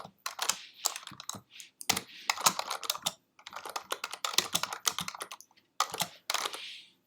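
Someone types code on a computer keyboard, a quick irregular run of crisp key clacks with short pauses between bursts, close and clear with no voices.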